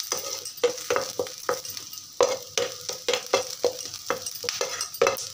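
Tadka tempering sizzles in a hot pan while being stirred, with a steady frying hiss broken by repeated sharp scraping strokes of the spoon, close and without voices.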